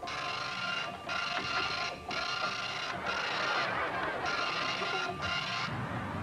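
A dot-matrix style printer attached to a 1986 Apple-compatible computer buzzes through several rhythmic print passes, each burst separated by brief pauses as the head returns, loud and close with no talking.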